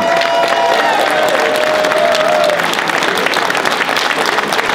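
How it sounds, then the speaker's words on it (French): Several hundred demonstrators gathered on a square in Avignon against the Macron pension reform clap loudly together, a dense, continuous wash of applause mixed with crowd noise and a whistling tone early on. "Je pense qu'on peut s'applaudir."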